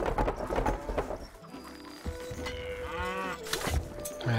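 Dairy cows moo in the video game Stronghold, a couple of drawn-out calls amid busy game noise with hoof-like clopping and clatter around them.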